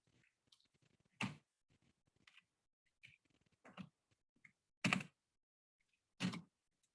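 Sparse clicks from a computer keyboard while typing into MATLAB, a few scattered light taps and several sharper keystrokes spaced apart in a quiet room.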